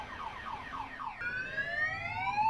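A modified car's alarm sounds nearby, first a rapid warbling pulse and then a switch to rising, repeating sweeps, loud and alone.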